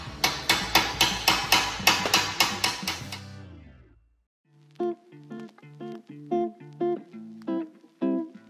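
Hammer blows strike a stuck Harley Davidson Sportster XL1200C part, first a fast run of about a dozen sharp metallic hits, then a pause and a slower series of ringing strikes.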